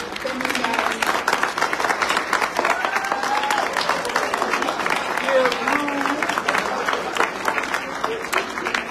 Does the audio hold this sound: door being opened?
no